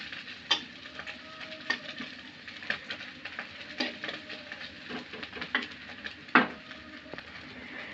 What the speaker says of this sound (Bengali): মাছ আর পেঁয়াজের কালার এক হয়ে গেছে ভাজাতে, সুন্দরভাবে ভাজা হয়ে গেছে